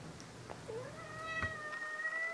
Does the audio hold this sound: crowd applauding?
no